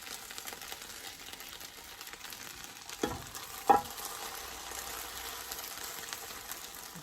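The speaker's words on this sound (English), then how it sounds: "You can hear that sizzling" Cooled syrup poured over warm baklava triangles fresh from the oven gives a soft, quiet sizzle, with a couple of brief clinks partway through.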